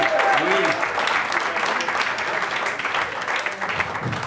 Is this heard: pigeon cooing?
no